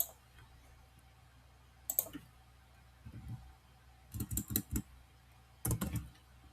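Computer keyboard keys are tapped in a few short bursts of quick clicks close by, separated by quiet pauses, with a single keystroke early on.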